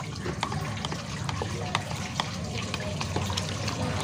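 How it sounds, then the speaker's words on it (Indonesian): A spoon stirs one liter of water mixed with a tablespoon of Sunlight dish soap in a container, making a steady swishing, sloshing churn with faint clinks, close by and continuous. "Kita aduk."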